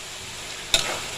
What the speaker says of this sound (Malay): So kita garingkan dulu kita punya bawang-bawang ni lah